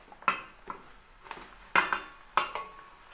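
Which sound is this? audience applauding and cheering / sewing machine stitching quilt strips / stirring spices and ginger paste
stirring spices and ginger paste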